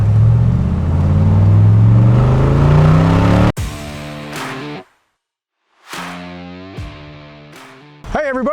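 A black 1966 Corvette convertible with a 427 big-block engine revs hard, climbing in a long sweeping run, then cuts off and fires off several sharp, short blips separated by silences.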